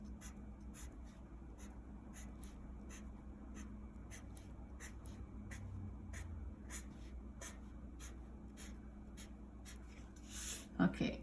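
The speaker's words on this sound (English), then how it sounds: "So I'm trying to turn my paper when I'm making these lines." Pencil or pen drawing lines on paper, a steady run of short scratchy strokes repeating close up, with a low background hum and a louder rustle near the end.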